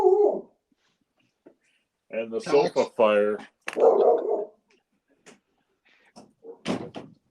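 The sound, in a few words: dog whimpering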